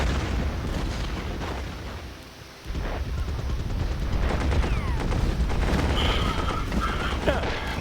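Artillery bombardment in the Commander The Great War strategy game, a dense rumbling barrage of booms and blasts that dips briefly, then swells back in loud and sustained.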